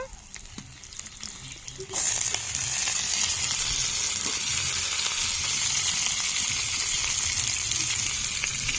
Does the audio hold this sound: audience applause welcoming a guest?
no